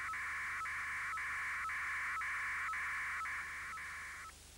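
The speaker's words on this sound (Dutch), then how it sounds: "Ze is nu hoorbaar en kan over het telefoonnet worden gestuurd." A modem's data signal over a telephone line, from a 1987 Belgian TV broadcast, sounds as a series of nine steady, even tone bursts with tiny gaps between them. The bursts are loud and clear and end abruptly.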